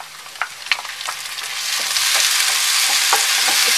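Onions, then tomatoes, sauté in a pan over a medium flame. A few light taps come first, then a close sizzle swells into a steady, bright hiss.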